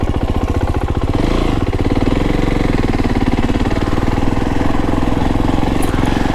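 A Fantic Caballero Rally 500 motorcycle runs on a dirt road, its single-cylinder engine thumping loudly and steadily at close range with a rapid, even pulse throughout, and no voices.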